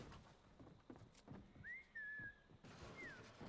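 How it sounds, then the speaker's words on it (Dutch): A person whistles a short rising-and-falling tune, a sustained wavering note followed by a brief second phrase, fairly close, over background game noise and faint low rumble. "Ik ben aan het fluiten."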